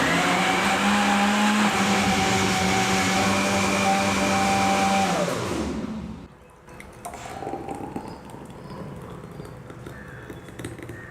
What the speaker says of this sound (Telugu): ఇప్పుడు మూత పెట్టేసి గ్రైండ్ చేసుకుందాం.